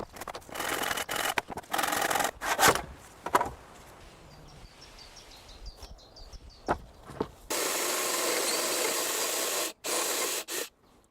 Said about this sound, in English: He then uses a chisel to create perfect grooves on the edges of the wood,